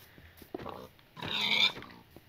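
A pig in the Minecraft video game gives short grunting oinks, one brief burst and then a louder, longer one, with no talking.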